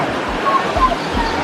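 Steady rushing wash of clear, fresh river water flowing in a countryside setting, broad and continuous at close range with faint sloshing swells and a hint of voices beneath.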